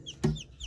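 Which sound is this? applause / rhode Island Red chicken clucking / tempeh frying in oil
rhode Island Red chicken clucking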